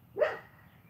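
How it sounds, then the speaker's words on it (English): One short, sharp bark from a dog nearby, breaking a quiet room and fading quickly. "if the dog is barking is bothering you"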